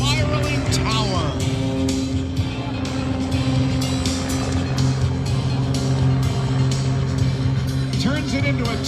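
An aerobatic airplane engine at an air show drones loudly and steadily as the plane climbs, its pitch shifting slightly while an announcer talks over it.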